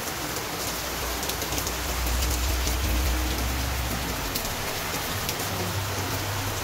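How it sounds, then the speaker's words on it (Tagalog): Heavy, steady rain pours down continuously in a Philippine locality during two days of downpour, a dense broadband hiss of drops on surfaces with a low rumble swelling in the middle and no voices. "Sobrang lakas ng ulan."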